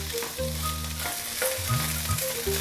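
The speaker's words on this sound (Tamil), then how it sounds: "மீடியம் ஃப்ளேமில் வச்சு ஃப்ரை பண்ணிக்கோங்க. இந்த வெஜிடபிள்ஸ்லாம் ஃப்ரை ஆகிட்டு இருக்கிறப்பவே" Mixed vegetables fry over a medium flame for a creamy Diwani Handi curry, giving a steady broadband sizzle with soft stirring scrapes and faint background tones throughout.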